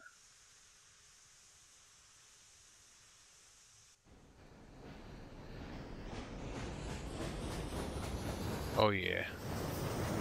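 In Railroads Online, a steam train making deliveries in a storm is quiet at first, then breaks into a swelling rumble of rolling wheels and rattling cars that builds steadily louder. A voice speaks briefly near the end.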